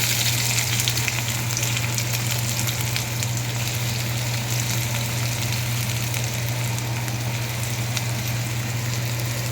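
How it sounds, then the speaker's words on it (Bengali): Chopped onion fries in oil in a wok, a constant close sizzle over a low steady hum. "কড়াইয়ে তেল দিয়ে প্রথমে একটু পেঁয়াজ কুচি দিই"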